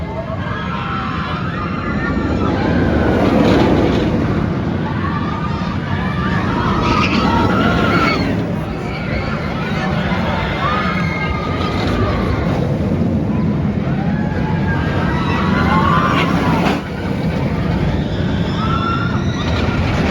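A ride aboard Batman The Dark Knight, a B&M floorless roller coaster at Six Flags New England, brings loud, continuous rushing wind and rumbling track noise with scattered riders' screams throughout.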